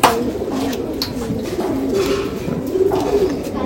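Desi pigeons from Sambhal coo in low, repeated throaty murmurs close by, a few soft calls overlapping through the whole stretch.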